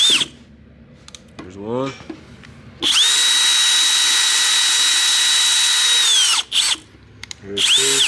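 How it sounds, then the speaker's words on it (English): A small 90-degree angle grinder grinds off a rivet on a truck oil pan gasket, a loud steady whine lasting about three and a half seconds, with short bursts before and after and a brief spoken remark. "on a small 90-degree angle grinder and kind of smooth that out and get rid of the rest of the rivet that's there"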